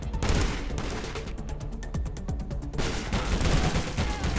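Rapid bursts of gunfire in the battle royale video game PUBG, dense overlapping shots layered together with a tense, crowded mix and no clear talk.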